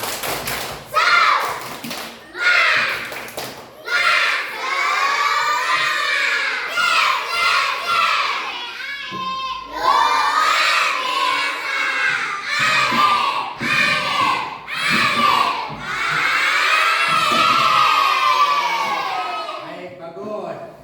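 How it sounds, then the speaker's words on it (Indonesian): A school class of children doing the tepuk semangat clapping chant in an Indonesian classroom lesson. Rhythmic group claps and taps mixed with loud chanting and shouting voices, near and continuous, with a brief pause midway. "semangat dulu, tepuk semangat"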